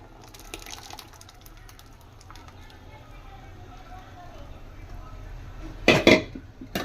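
Mashed lentils are stirred into hotel-style sambar in a pot: faint scraping and liquid movement build to a loud metallic clatter of the pot and ladle near the end, with speech in the background.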